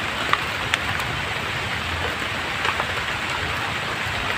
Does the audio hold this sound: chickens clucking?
no